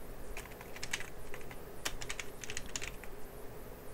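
Korean text being typed on a computer keyboard, a steady run of fast, close key clicks with a few sharper strokes, filling the clip without any talking.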